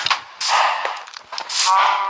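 A creeper explodes in the Minecraft one-block survival game, several loud blasting bursts crowding a couple of seconds, close and harsh with no talk.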